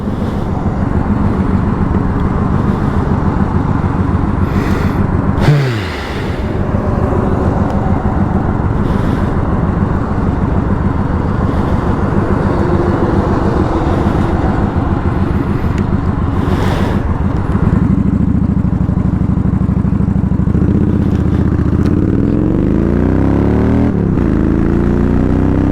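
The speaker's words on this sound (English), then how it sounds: "traffic gets pretty busy around this time." Busy road traffic with cars and motorcycles passing steadily, a constant broad rumble of engines and tires, with one vehicle whooshing close by early on and wind buffeting the microphone.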